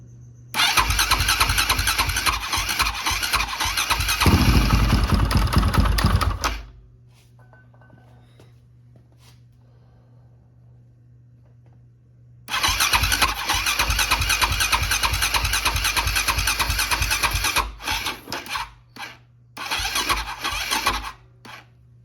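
A 2007 KTM 525 motorcycle engine is cranked hard by the starter in a loud, rasping churn lasting several seconds, then a quiet pause, then another long cranking run that breaks into stuttering bursts.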